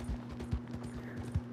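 Horse hooves clip-clop in the video game Red Dead Online, several soft, evenly spaced steps over a low steady hum, fairly faint with no talking.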